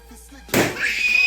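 A single sharp balloon pop after a quiet moment, loud and close, followed by a lingering ringing tail.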